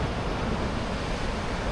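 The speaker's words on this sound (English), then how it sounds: "Look at this for an unspoiled beach." Surf breaking on an unspoiled beach backed by brush box, cypress pine and banksia forest, a steady broadband wash of waves with some wind noise across the microphone, continuous and fairly loud, with no talking.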